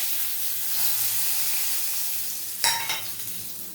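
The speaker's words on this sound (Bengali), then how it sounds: "এই তেলেতেই আমি গোটা গরম মশলা, তেজপাতা, গোটা গরম মশলাটা ফোড়ন দিয়ে দিচ্ছি।" Whole garam masala and bay leaves temper in hot oil, giving a soft steady sizzle that flares into a brief louder crackle near the end, no talk.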